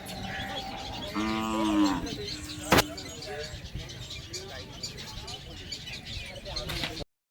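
Calves mooing at a bullock market, a clear drawn-out low moo near the start followed by a sharp crack, with birds chirping and people talking around the busy yard.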